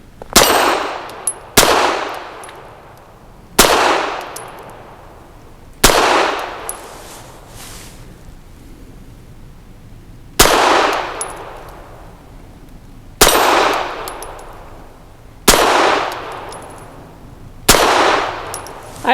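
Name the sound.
Walther PD380 pistol shots hitting a steel spinner target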